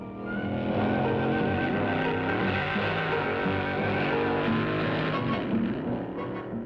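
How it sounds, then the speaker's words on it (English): At the 1962 NHRA U.S. Nationals drag races at Indianapolis Raceway Park, cars accelerate down the quarter-mile strip with a loud, sustained engine roar whose pitch sweeps as they rev and pull away. "the big goal is the National Championship drag races run by the National Hot Rod Association"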